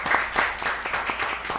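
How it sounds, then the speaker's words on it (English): Brief scattered applause from a small audience at a discussion program, a handful of distinct claps in quick irregular rhythm, near and moderately loud. "Can we give them a round of applause, please?"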